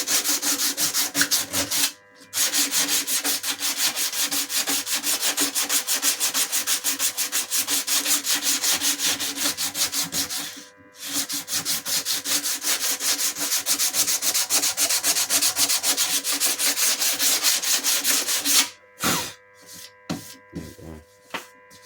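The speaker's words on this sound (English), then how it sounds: "Just always looks a lot nicer when you just sand it." Sandpaper rubs back and forth by hand in fast, steady strokes on the rusty inner panel of a Ford XC Fairmont GXL front door. The rasping is loud and close, pausing briefly twice, then breaking into shorter, irregular strokes near the end.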